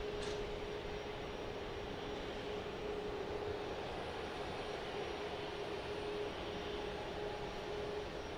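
A Boeing 737 MAX airliner passes near Dallas Love Field, a steady, loud broadband engine roar holding a constant droning tone throughout, with no talk heard.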